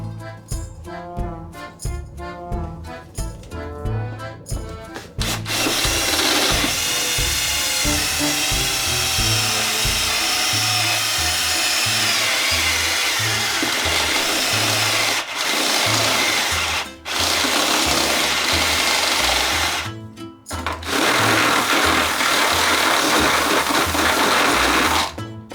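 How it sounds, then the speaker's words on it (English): A step drill bit bores a hole through the metal of an Austin Minor pickup while a battery cut-off switch is being fitted. A loud, sustained grinding whine runs with a couple of brief pauses, after a stretch of choppy rhythmic noise at the start. "I'm just going to use one of these stepper drills."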